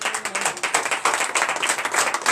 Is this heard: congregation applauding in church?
yes